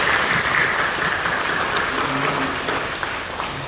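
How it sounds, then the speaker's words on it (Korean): A church congregation applauds during a Sunday worship service, a dense steady clapping that is loud at first and gradually softens, with a few faint voices underneath. "우리 격려하며 박수해 주시죠"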